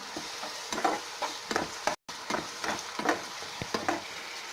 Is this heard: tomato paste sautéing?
yes